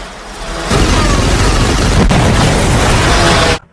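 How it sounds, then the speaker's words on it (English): A loud, sustained explosion effect of a Bugatti blowing up a Mercedes Metris: a dense, roaring boom that fills about three seconds before cutting off abruptly. "Explosion imminent."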